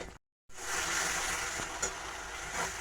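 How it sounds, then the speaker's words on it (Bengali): Prawn malaikari masala sizzling as it is sautéed in a pan, a steady close frying hiss after a brief silence, with a couple of faint stirring knocks and no talking. "এখন আবার সুন্দর করে এটা সম্পূর্ণটাকে কষিয়ে নেব"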